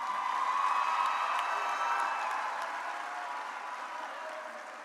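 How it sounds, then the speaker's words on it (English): Crowd of graduates and audience at a 2022 high school graduation cheering and applauding early graduates, a broad roar of clapping and cheers from a large hall, heard at a distance and slowly fading. "Can I get a round of applause from our early graduates?"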